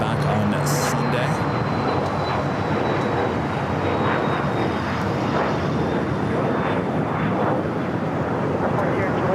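An airliner takes off at LAX, its engines a loud, steady broadband roar that fills the whole stretch with a thin whine drifting downward, while faint radio voices sit beneath it.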